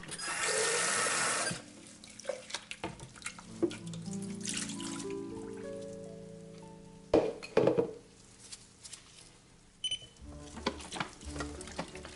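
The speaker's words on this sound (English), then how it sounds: "I'm rinsing the graduate to get it ready for the fixer." Tap water runs at a darkroom sink while a film-developing graduate is rinsed. A short burst of flow is followed by drips, soft clinks and handling noises, all close and fairly quiet.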